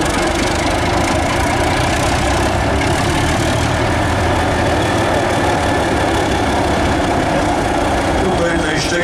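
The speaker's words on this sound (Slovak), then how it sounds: "štekavý zvuk, typický štekavý zvuk toho 6-válca 310-kového motora" A stationary six-cylinder turbocharged locomotive diesel engine with a 310 mm bore and 1500 hp runs at a turntable parade, giving a loud, steady, gruff barking rumble that continues throughout with no pause.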